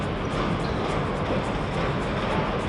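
A forklift working near a docked cruise ship gives off a steady, rumbling mechanical noise, a dense continuous drone likened to a chugging steam train, heard alone without voices.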